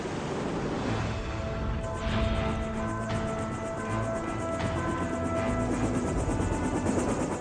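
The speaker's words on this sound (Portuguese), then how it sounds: "Sua única esperança é um helicóptero." Continuous roar of a helicopter's engine and rotor blended with wind and surf, steady and fairly distant, with no talking.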